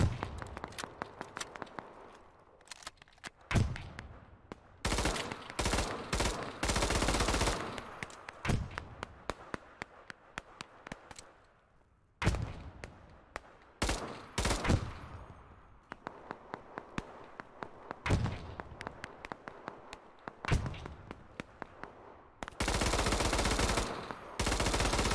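Bursts of automatic gunfire in a free-to-play online military shooter, long sustained volleys alternating with short stuttering rounds and brief lulls, loud and close with distant shots between.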